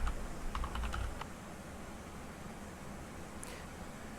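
Computer keyboard typing as a password is entered, a brief burst of quick, light key clicks at the start, then a quiet, near-silent stretch with a single faint tap.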